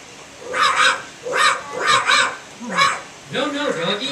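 Dog barks in a Wizard of Oz puppet show, a series of yapping, voice-like barks in uneven bursts, close and fairly loud, likely a performer imitating the dog.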